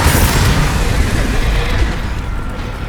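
A blast from an explosion spell in Hogwarts Legacy, a loud, booming burst that rumbles heavily and then slowly fades over a few seconds.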